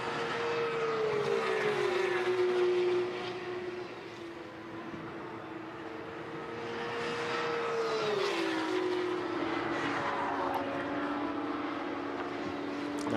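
Porsche Carrera Cup race cars tear past at Thruxton circuit, engines howling loud with a pitch that climbs, drops as they pass and surges again, several cars in close succession.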